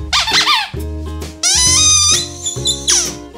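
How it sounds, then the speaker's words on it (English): Two rubber squeaky dog toys squeezed in turn, giving loud, high, wheezy squeaks in several bursts of varying length and pitch, close up with no talking. "Just listen to the difference in these two squeaky toys."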